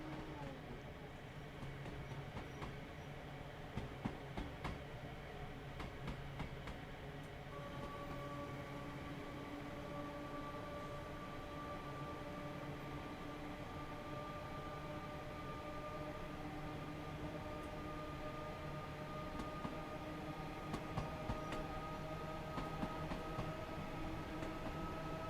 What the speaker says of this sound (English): it actually sounds like a proper electric train